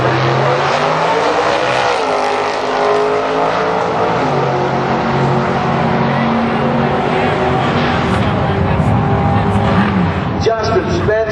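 A Ford Mustang roars down a drag strip, its loud engine a steady, sustained drone near the microphone, with an announcer talking over it.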